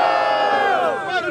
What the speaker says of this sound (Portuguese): Barulho pras rimas do Cauã e do Petutino.